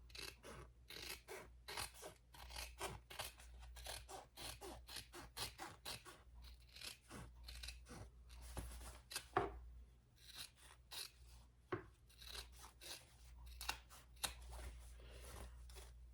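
Scissors snip through fabric for a sewn waist pack, a long run of quick, close, dry cuts and rasping blade strokes with short pauses between them, fairly quiet and with no talk.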